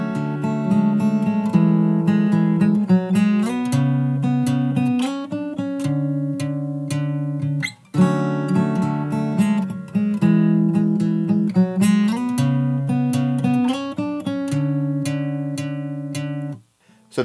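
Fingerstyle acoustic guitar picking the bridge of a song, a repeated line of plucked notes and chords played twice with a short pause between, clear, close and loud with no voices.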